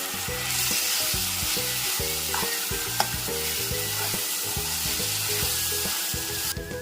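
Prepared masala fries in a pan for capsicum and paneer gravy, a loud, constant sizzle with occasional stirring clinks, and a steady low tonal pattern running underneath throughout.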